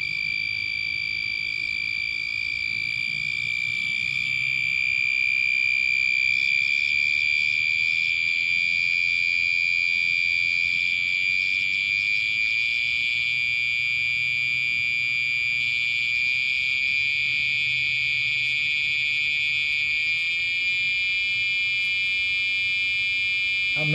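A 555 timer oscillator circuit giving a steady high-pitched electronic buzz like a piercing alarm tone, continuous and fairly loud with slight wavering in intensity throughout, no voices.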